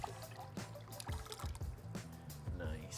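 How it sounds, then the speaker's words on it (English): Thick blended paper pulp poured from a blender jug into a cup, heard as irregular wet glugs and splats arriving in uneven bursts, fairly close. "Now we're going to take it off the blender and pour it into a cup."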